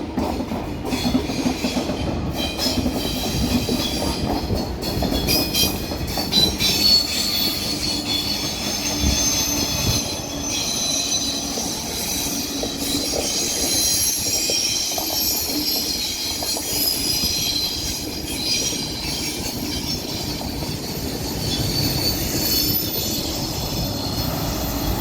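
A TGV double set pulls out of Paris Gare du Nord on the LGV Nord line, a loud, sustained roar of wheels and rolling stock with squealing and clickety-clack over a steady rumble.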